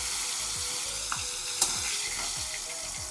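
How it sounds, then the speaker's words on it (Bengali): Rohu fish pieces frying in hot oil in a pan, a steady loud sizzle with faint crackles and a small clink partway through. "দেখুন, লাল করে আমি ভেজে নিয়েছি মাছগুলো সুন্দর।"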